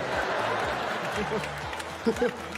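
A comedy special audience bursts into applause and cheering, a dense wash of clapping beneath a voice that talks over it.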